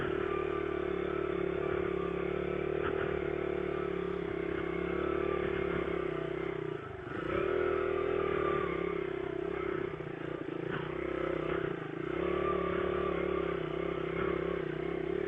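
A 1990 Honda XR100 dirt bike rides through ruts, its mid-pitched engine droning steadily and close with clutch-controlled revving swells and a brief dip midway, with faint rattling underneath.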